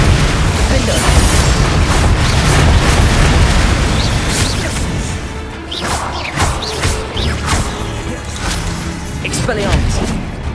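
Bombarda spell explosions in Hogwarts Legacy, heavy booming blasts and crashing debris in a loud magical duel, with voices and combat sounds around them.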